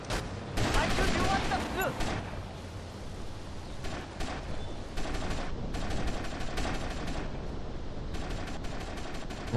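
Sustained gunfire in the video game GTA Long Night Liberty City, with rapid bursts of shots repeating through the whole scene over loud game ambience.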